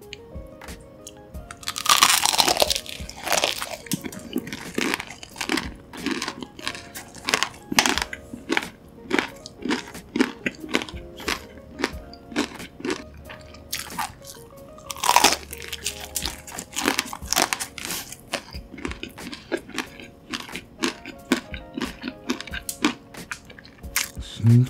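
Biting and chewing a crunchy convenience-store hot dog, close and loud crisp crunches repeating in irregular bursts, with two sharp bites standing out.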